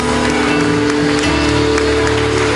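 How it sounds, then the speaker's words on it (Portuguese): Church congregation clapping during a family worship service, a dense, steady wash of applause filling the room without pause. "Você pode dar um forte aplauso a esse Deus maravilhoso."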